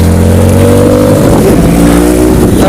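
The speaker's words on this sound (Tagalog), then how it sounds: "Honda Civic, kotse ng mga takboy." A Honda Civic roars close by as it accelerates, its engine tone climbing loud and steady before shifting pitch as the car passes.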